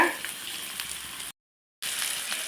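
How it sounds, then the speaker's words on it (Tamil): Small shallots and curry leaves frying in oil for fish curry, a steady bright sizzle close up, cut by a short stretch of total silence before the sizzle resumes. "எண்ணெயை ஊற்றிக்கிடுவோம் இப்போ சின்ன வெங்காயத்தை உள்ளே போட்டுக்கிடுவோம் கருவேப்பிலையை உள்ளே சேர்த்துக்கிடுவோங்க"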